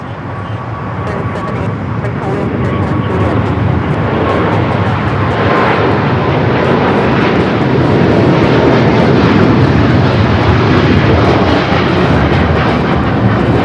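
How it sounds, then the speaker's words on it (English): An EVA Air Boeing 777-300ER takes off at LAX, its heavy jet roar swelling gradually and holding strong and close, with voices faintly underneath. "That is EVA Air Flight 5 taking off to Taipei on the 777-300ER."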